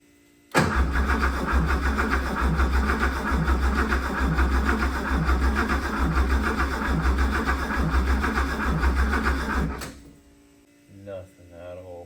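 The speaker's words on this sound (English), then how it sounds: "Okay, I'm just gonna go ahead and start it." An old, long-abandoned Porsche 911 engine cranks over and catches, running loud and steady up close for about nine seconds before cutting off, followed by a moment of quiet and a few faint sounds.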